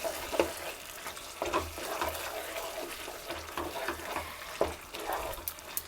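Handi chicken with green chillies being stirred in a pan, with soft repeated scraping and wet sloshing strokes over a quiet sizzle at close range.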